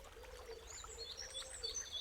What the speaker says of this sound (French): Laissez le mélodieux chant des oiseaux vous transporter.